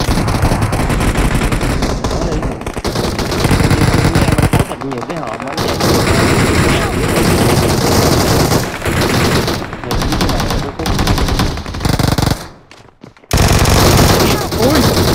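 Rapid bursts of automatic gunfire from the mobile battle royale game PUBG Mobile fill the scene, loud and dense with brief gaps, while players talk over the shooting.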